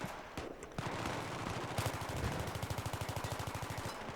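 An M416 rifle in Battlefield 3 fires in bursts at long range, a loud run of rapid repeated shots that settles into a steady rattling rhythm near the end, with no voices over it.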